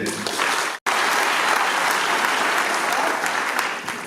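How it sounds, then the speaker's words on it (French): A church congregation breaks into loud, sustained applause after a brief pause, the clapping dense and even as it fills the space for several seconds. "nous allons applaudir pour le Seigneur"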